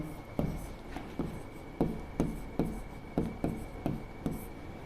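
Chalk or marker writing on a board during a science lesson, a steady series of short scratchy strokes about every half second, close and fairly loud, with no talking.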